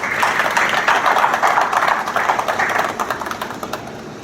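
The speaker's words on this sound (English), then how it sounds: "So just a round of applause." A round of applause at a fire department ceremony putting rigs on duty: dense clapping from a modest group, steady at first and thinning out toward the end.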